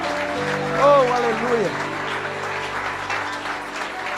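A congregation at a church service in Lisbon claps steadily in praise while a voice exclaims over the applause.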